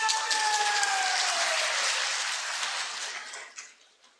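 Crowd applauding at a Pakistan Muslim League political rally, a dense, sustained roar of clapping that holds steady before fading over the last second, with a faint whistle-like tone running beneath it.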